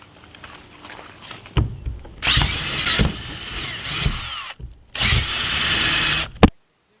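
A drill turns a 40mm hole saw through material to make holes for a PVC tube. Several loud grinding bursts of cutting come between pauses with handling knocks, and the last run stops abruptly.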